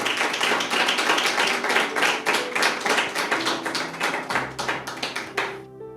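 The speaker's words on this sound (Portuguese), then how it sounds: "E uma salva de palmas." Applause from a church congregation: a steady stream of clapping filling the room, fading out near the end as a low tone lingers.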